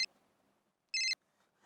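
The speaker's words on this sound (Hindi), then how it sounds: "फिर से आया फोन।" A phone rings in short electronic bursts, one clipped at the start and another brief ring about a second later, clear and fairly close against a quiet room.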